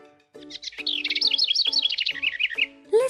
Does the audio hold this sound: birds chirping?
yes